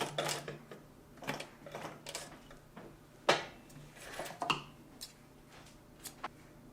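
Sewing machine stitching back over the last two or three stitches at the end of a seam to lock it, heard as a run of short, close mechanical clicks and taps with brief pauses and no talking.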